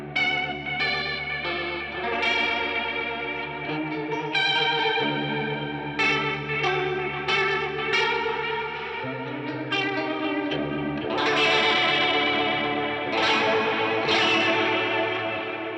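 An electric guitar played through a Deluxe Electric Mistress flanger pedal, set to imitate a swirling rotary speaker. Sustained chords and melodic notes sweep and warble, loud and prominent, with no talking.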